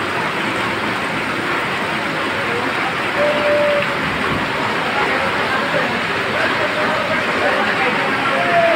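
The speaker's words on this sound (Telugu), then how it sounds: "రోడ్డు మీద పొంగి ప్రవహిస్తున్నటువంటి వరద ఇలా సెల్లార్లోకి వస్తుంది" Floodwater in heavy Hyderabad rain pours off the road into a building cellar, a dense, steady rushing roar that stays loud and unbroken throughout.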